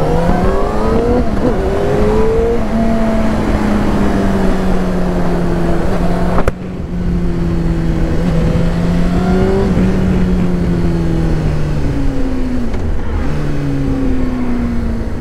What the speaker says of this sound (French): Ce son d'accélération mon gars, c'est ça qui te fait kiffer la moto.